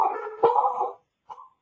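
Household dogs bark indoors during a call, a run of harmonic barks in the first second followed after a short pause by one brief yelp, fairly close and loud.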